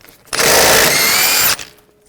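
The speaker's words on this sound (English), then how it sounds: "Using a 32mm socket, take this nut off." A power tool whirs in one loud, continuous burst of about a second as it spins a suspension nut off with a 32mm socket on a 2003-2008 Subaru Forester rear knuckle, then cuts off abruptly.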